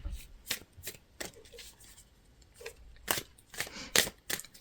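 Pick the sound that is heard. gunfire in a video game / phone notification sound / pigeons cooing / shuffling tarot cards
shuffling tarot cards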